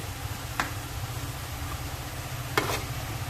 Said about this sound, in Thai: อ่าแล้วก็ผัด